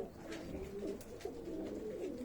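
Pigeons cooing softly and repeatedly in coops, a low murmuring chorus from several birds close by with faint rustling in the background.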